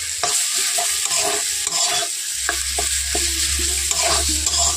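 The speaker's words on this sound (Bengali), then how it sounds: "তো সবগুলো খুব ভালো করে নাড়াচাড়া করে নেব।" Cabbage filling with cumin powder and garam masala being stirred in a frying pan, a spatula scraping in repeated strokes over a soft continuous sizzle, close and clear.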